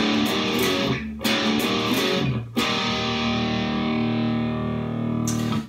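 Distorted electric guitar with effects plays a transitional riff from a song, loud sustained chords broken by two brief gaps, then ringing out alone.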